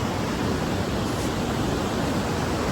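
The Niagara River rapids beside the bridge to Goat Island roar in a steady, dense broadband rush of water, loud and unbroken throughout, with no voices.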